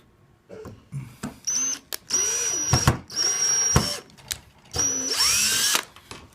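A cordless power drill drives screws in short repeated bursts, each whine rising and cutting off, close and fairly loud with brief pauses between runs.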